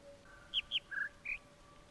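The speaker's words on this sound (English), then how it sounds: "that is kind of the sound that the bird's making" Bird song in the video game The Witness: four short clear whistled chirps in quick succession, two rising high notes followed by two lower level ones, close and alone over a faint steady hum.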